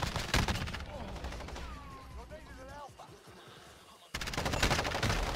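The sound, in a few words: MP7 submachine gun firing in Call of Duty Modern Warfare video game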